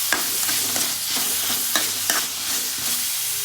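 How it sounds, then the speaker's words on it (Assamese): Chicken in a pan being stirred right after red chili powder goes in, a scraping, clacking spoon rhythm over a steady close sizzle, with several sharp strokes spaced through the stir and no talking. "এতিয়া ৰেড চিলি পাউডাৰটো দি আকৌ লৰাই দিলোঁ এনেকৈ"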